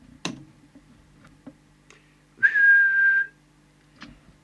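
One short, steady whistle into the microphone of an Alba CBH2 40-channel hand-portable CB radio during deviation alignment, lasting under a second, set against near-silence with a few faint clicks and ticks before and after.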